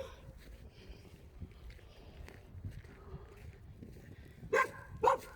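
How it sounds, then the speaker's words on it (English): A dog barks twice in quick succession, two sharp, close barks that break a long, quiet stretch of faint background rustle. "He's going to bark all through what I'm talking about."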